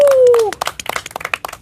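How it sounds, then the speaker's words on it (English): A small audience gives a round of applause at a culinary dinner event, a brief burst of irregular hand claps following a spoken line, fairly close and moderately loud. "First round of applause we've had."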